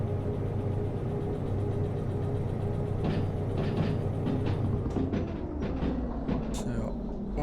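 A locomotive running in the train-driving video game Derail Valley, a continuous low rumble and drone with faint scattered clicks and clatter over several seconds, fairly quiet.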